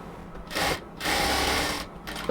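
A sewing machine lock-stitching a cotton kameez body, running in three loud, close bursts of fast continuous whirring separated by short pauses.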